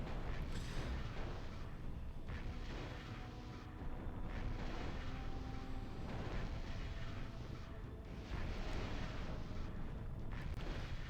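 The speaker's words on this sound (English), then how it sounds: "I am under enemy fire." Weapons fire and explosions from the MechCommander Gold video game, a dense rumbling barrage of booms and blasts in continuous waves, loud and full with no clear gaps.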